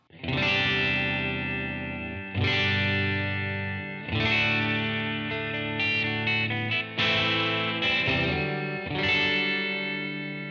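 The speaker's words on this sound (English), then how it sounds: "I'm going to show you my clean tone to start with" Clean electric guitar chords from a Stratocaster ring out one after another, each strummed and left to sustain and fade, with a bright, full tone.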